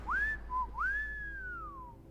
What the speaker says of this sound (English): Is that me whistling?